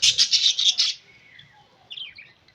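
Australian lovebirds chirping in a home breeding setup: a quick run of bright, close chirps for about a second, then quieter scattered calls and a short burst of twittering near the end.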